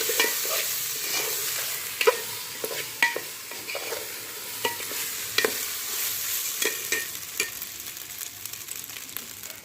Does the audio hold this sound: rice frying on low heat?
yes